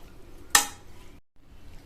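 Vegetables in a little water are stirred in a cooking pot, a single sharp metallic scrape of spoon against the pot followed by a brief wet swish, then quiet.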